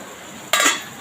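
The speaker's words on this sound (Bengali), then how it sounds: "এবারে ঢাকনাটা কিন্তু খুলে দেখব" Metal lid lifted off a cooking pan of fish curry, a single close clatter followed by a brief burst of hissing steam, with quiet background before it.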